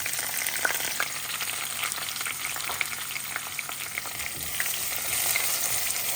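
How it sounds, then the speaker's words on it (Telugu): Onions frying in a pan as the base for a bottle gourd curry, a steady crackling sizzle with light spatula stirring, close and moderately loud, with no one talking. "సో దీంట్లో ఉల్లిపాయలు వేసేస్తాం"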